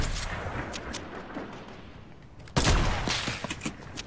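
Gunfire in a VR battle royale game, with scattered distant shots crackling under ambience, then a sudden loud close burst of shots and reports near the end.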